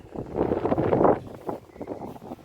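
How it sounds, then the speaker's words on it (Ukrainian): Wind buffets the microphone outdoors during hay mowing with a YuMZ tractor, a low, rumbling roar that swells and gusts unevenly, loudest near the start, with no speech. "Одразу вибачаюся за вітер, бо в нас трошки"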